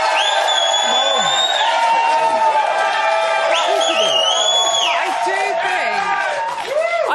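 Studio audience at a Big Brother live spin-off show cheers, whoops and yells in a loud, sustained crowd roar lasting throughout, with shrill whistles and high voices rising above the din.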